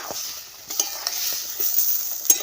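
Spices and salt cook in a pan with a little water for Bengali neem jhol. A soft sizzle sits under a few sharp spatula taps and scrapes over a couple of seconds, with no voices.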